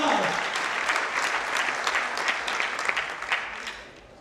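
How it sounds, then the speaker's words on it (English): A church congregation claps hands together in sustained, dense applause that tapers off toward the end. "Somebody clap hands for Jesus."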